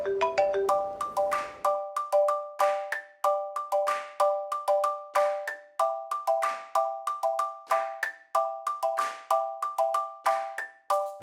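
A phone ringtone plays alone, a repeating bright electronic chime pattern that loops steadily at moderate volume with no voices.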